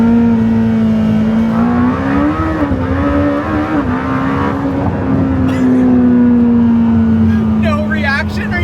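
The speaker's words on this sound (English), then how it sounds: "All right, that is a fast car." A Lamborghini Temerario accelerates hard from a launch, its engine a loud, sustained droning roar with small surges in pitch, heard close from inside the car.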